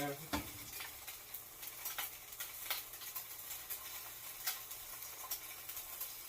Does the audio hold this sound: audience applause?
no